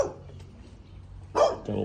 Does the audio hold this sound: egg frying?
no